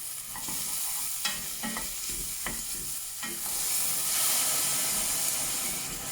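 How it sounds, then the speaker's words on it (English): Chillies sizzle in a pan with a little water and oil, a close, steady hiss with occasional sharper pops and stirring clatter, rising louder toward the end, with no speech. "And pop the chillies in"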